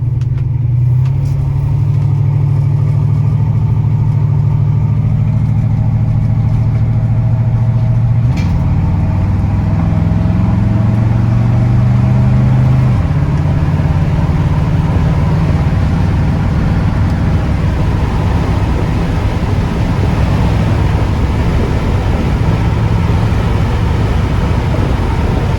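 An LS-swapped Chevrolet C10 pickup drives along, its engine loud and close throughout, with a clear shift in pitch partway through as the revs change, then a steady cruising drone with road rumble.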